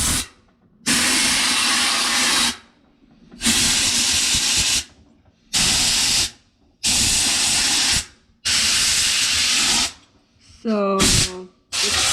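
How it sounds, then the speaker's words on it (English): Compressed air nozzle blasting at an LG washer, sounding in five loud, steady hissing bursts of about one to two seconds each with short silent gaps between them, then a final burst with a brief tonal whistle. "You're trying an air nozzle."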